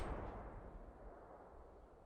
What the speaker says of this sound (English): Fire a mortar.